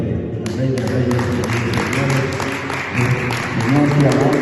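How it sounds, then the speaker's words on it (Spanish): A congregation in a Spanish-speaking church claps together in a steady, dense round of applause, close and loud, with a voice speaking over it throughout. "Denle un fuerte aplauso al Señor, el Rey de Reyes"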